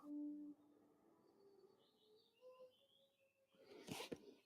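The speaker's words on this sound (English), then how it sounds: "I can hear the bird song" Faint birdsong chirps and whistles softly in a quiet space, with a brief low tonal sound at the start and a louder rustle near the end.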